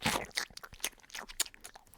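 Teeth crunching and squeezing down on a plastic bottle, a run of close, crisp crackles and bites in irregular bursts, fairly loud with no talking.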